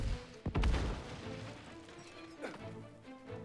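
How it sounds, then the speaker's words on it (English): A cannon firing in the New World online game, one sharp booming blast followed by a rumbling tail and a second fainter crack, with no speech. "Fire the cannon!"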